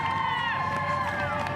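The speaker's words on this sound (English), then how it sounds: "We must be nearing the finish line when you hear all the crowd now cheering them on." Crowd cheering on runners near the finish line of the Chicago Marathon: a steady roar of distant spectators under a commentator's voice.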